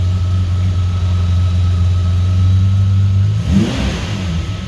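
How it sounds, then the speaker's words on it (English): A 1988 Ferrari Testarossa idles steadily up close, then gives one quick rev near the end that rises and falls back toward idle. "Can you hear that engine roar?"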